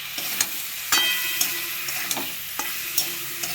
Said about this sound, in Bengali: এটা একটু হালকা কষিয়ে নেব।